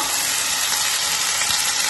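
Onion paste dropped into hot oil left over from frying spits and crackles in a dense, loud, continuous sizzle heard close up, with no one talking.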